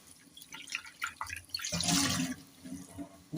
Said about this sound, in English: I'll drain this water and rinse them to remove excess starch.